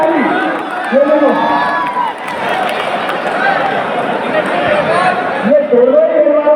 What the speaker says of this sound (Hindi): ताली बजाओ भाई ताली